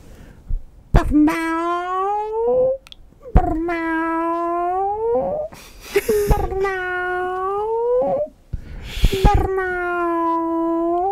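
A man imitates a cat meowing, giving four long, drawn-out wailing meows with rising and falling pitch, each separated by short pauses and bursts of laughter or voices from others nearby.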